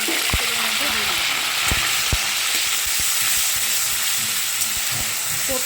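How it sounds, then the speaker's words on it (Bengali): A medium-sized onion frying in oil gives a loud, continuous sizzling hiss, with occasional low thumps and knocks from the pan close by. "ছোট্ট মিডিয়াম সাইজের একটা পেঁয়াজ দেখো তেলের মধ্যে দিয়ে দিলাম"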